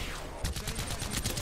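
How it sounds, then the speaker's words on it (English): Rapid bursts of gunfire from the Apex Legends video game, with shotgun blasts among them, crackling loudly and repeatedly across the whole stretch after a brief quieter opening. "He's got a shotgun."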